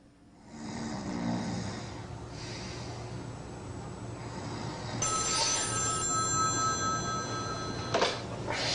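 A telephone rings with a bright, steady electronic tone that starts partway through and keeps sounding, following a stretch of low breathy, snore-like rumbling.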